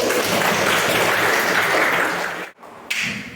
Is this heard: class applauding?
yes